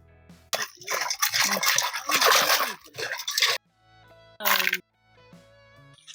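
Crab pieces are rinsed in water by hand, giving loud splashing, sloshing and dripping in irregular bursts, with a pause and then a short final splash.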